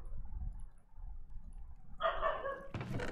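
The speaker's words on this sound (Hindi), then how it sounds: "मेरे पंपू किसको भौंक रहा है यार, मेरा डॉग भी पागल हो गया" Dog barking in Minecraft: a brief sharp bark followed by a second louder burst near the end, over faint background hum, no talking.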